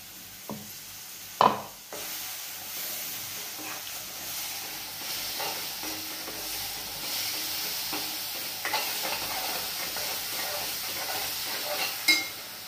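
Ground onion, garlic and coriander paste sizzles in a pan, starting with a sharp drop-in burst, then a steady frying hiss with occasional stirring scrapes.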